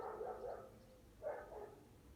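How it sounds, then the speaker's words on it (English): A neighbouring dog barks faintly in the distance outside, two short bursts of muffled barking separated by a pause, under quiet background noise. "We can hear Buster, the dog next door"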